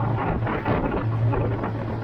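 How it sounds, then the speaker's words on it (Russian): Strong, gusty wind on a GROM-335 trimaran planing over waves in the frosty Gulf of Finland, a steady, loud, buffeting roar with no voices. "Ветер сильный, порывы до 12 метров в секунду."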